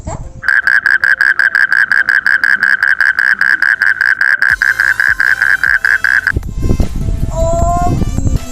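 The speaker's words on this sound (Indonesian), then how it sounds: "Nah, suaranya katak itu seperti ini." A frog croaks in a rapid, steady pulsing series for several seconds, loud and close, then other chirpy calls and noisy rustling take over.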